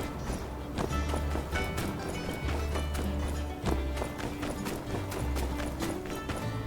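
Hooves clip-clop in a steady galloping rhythm in the My Time at Sandrock video game, running continuously at moderate loudness with a brief whinny-like accent, no voices.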